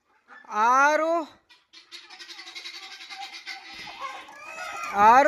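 A country hen on a native poultry farm gives two loud, close clucking calls, one at the start and one at the end, with a soft, rapid murmur of clucks between them.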